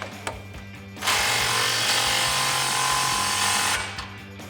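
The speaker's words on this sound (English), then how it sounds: "We'll tighten our axle clamp up first." A power tool tightens the axle clamp of an MBRP cat-back exhaust on a 2021-2022 Ford Bronco, a loud close whir running about three seconds between short clicks and taps.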